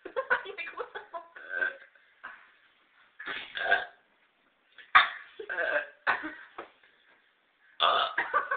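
A woman burps loudly several times in short, separated bursts, with some throaty, cough-like sounds mixed in, recorded close and indoors.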